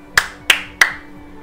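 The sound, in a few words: hand clap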